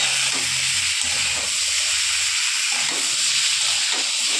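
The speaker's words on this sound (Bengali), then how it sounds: "খুব ভালো করে কষানোর পর এবার একটু সজনে ডাঁটাগুলো তুলে দিয়ে এটাকে একটু কষাবো" Drumsticks frying with spices in a pan, giving a dense continuous sizzle and hiss with a faint low hum early on, close and steady throughout.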